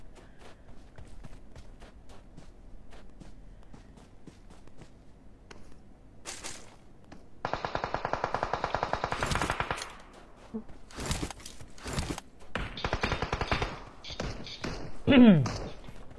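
Automatic gunfire in PUBG Mobile, rapid rattling bursts with scattered single shots and footsteps, mixed with someone talking throughout.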